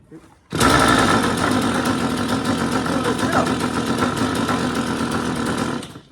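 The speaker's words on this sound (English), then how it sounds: "But you see how it's cranking, you don't have to pull it." A new-style Stihl chainsaw engine starts up and runs steadily at a loud, close, buzzing idle for several seconds with no one speaking.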